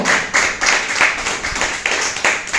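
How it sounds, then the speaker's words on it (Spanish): A church congregation claps together in a strong rhythmic beat, loud and close, each pulse of many hands landing roughly on time with no talking over it. "Denle un fuerte aplauso al Espíritu Santo"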